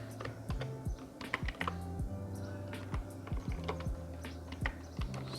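Typing on a computer keyboard, quick irregular clicks and clacks of keys in bursts with short pauses, close and fairly quiet, with no voices.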